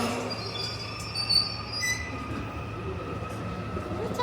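A tourist train arrives at Suwon Station with a steady low rumble, faint metallic squeals rising over the wheels and a continuous mechanical hum throughout.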